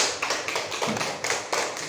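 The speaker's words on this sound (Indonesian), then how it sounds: "Tepuk tangan anak-anak." Schoolchildren clapping in a classroom, a brisk burst of many hands with regular pulses of applause repeating several times, fairly loud and close, without talk over it.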